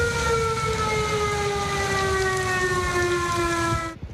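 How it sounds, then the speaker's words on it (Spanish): Tornado warning sirens wail in Selma, Alabama, a loud sustained tone gliding slowly downward with rain hissing beneath, then cutting off abruptly near the end. "Al sonido de las sirenas, los residentes buscaron refugio."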